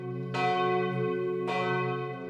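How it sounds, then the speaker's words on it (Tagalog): Two strokes of a large cathedral church bell in Calapan, Oriental Mindoro, Philippines, ring out about a second apart, each leaving a rich, humming resonance with no voices. "tumutunog ang kampana"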